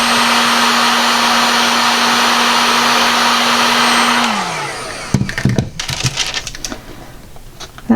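A heat gun blows on hardened resin from a large oval free-form bowl, a loud, steady whirring hum for about four seconds before it winds down, followed by scattered scraping and handling clatter.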